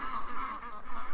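Ducks being herded in for the night, with a short burst of close, overlapping nasal quacks and honks from the flock.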